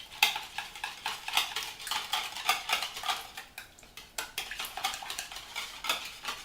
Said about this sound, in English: And then 1 egg. Just gonna beat that together and mix it well.